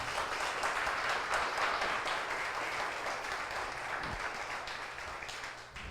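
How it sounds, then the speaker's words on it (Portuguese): A church congregation applauds during a sermon, a steady wash of clapping heard at a moderate distance, fairly quiet and even throughout with no voices over it. "Pode aplaudir, isso é para Ele."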